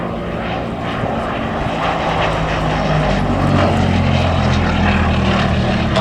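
A Gloster Gladiator biplane flies at the Duxford Battle of Britain 2022 air show, its piston engine giving a loud, steady propeller drone that swells slightly and holds for the whole stretch.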